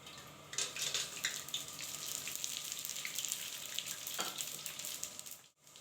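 Whole cumin, cinnamon pieces, cloves and green cardamom sizzle in hot cooking oil in a large pot for rice, a steady close crackling hiss that briefly surges, then cuts off at the end.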